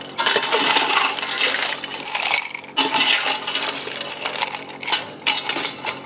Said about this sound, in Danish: Så tager du et lowball-glas, sådan der, og fylder det op med is.